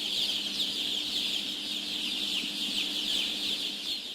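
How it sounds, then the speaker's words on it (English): Dense clucking from many chickens packed together on a factory farm fills the space in a constant, close chatter over a steady low mechanical hum. "Chickens are by nature social, curious, and intelligent animals."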